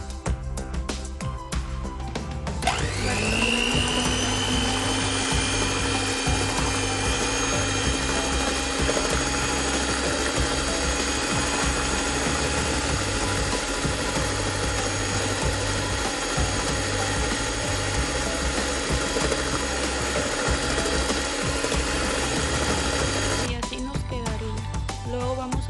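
An electric hand mixer beats blue velvet cupcake batter with margarine, a steady whirring motor drone with a rattling mechanical edge that starts after a short pause and runs close and continuous before stopping.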